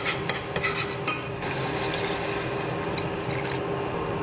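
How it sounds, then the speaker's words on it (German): A spoon stirs tomato paste into water in a cooking pot for a vegan Turkish dish, with a few light clinks against the pot at first, then a steady soft swishing and simmering sound, close by and with no voices. "Vermische das gründlich, löse meinen Tomatenmark auf."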